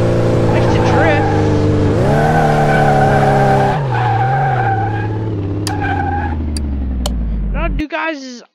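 In the Car Mechanic Simulator 2018 video game, a Ford F-350 Superduty truck drifts with a loud, sustained tire squeal over a droning engine. The engine pitch rises and falls, a few short squeaks come near the end, and then the sound cuts off sharply.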